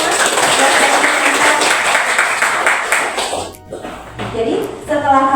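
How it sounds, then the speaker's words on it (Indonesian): Students clapping together in a classroom, a dense, steady burst of applause that thins out briefly near the end and then picks up again, with a little voice mixed in. "Tepuk tangan dulu untuk semua."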